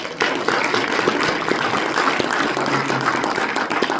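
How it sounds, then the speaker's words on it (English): Audience at a town hall safety meeting breaks into steady applause, a dense wash of many hands clapping for several seconds with little talk. "Big round of applause."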